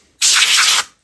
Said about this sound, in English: just get some compressed air